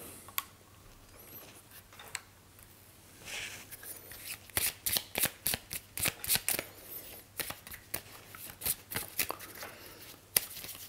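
Cards for The Dwarves board game are shuffled in a riffle of quick crisp flutters, repeated bursts of snapping card noise that grow louder after a few quiet seconds, close and clear.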